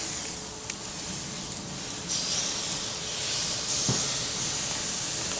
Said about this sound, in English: A little sizzle to it